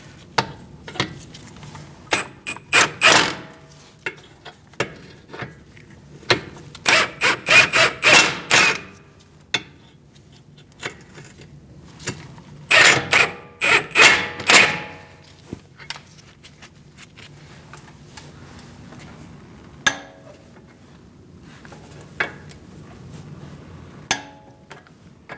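A wrench tightens steering knuckle bolts on a 2002-2006 Toyota Camry, with close bursts of rapid metallic ratcheting clicks in several clusters separated by quiet pauses and scattered single taps.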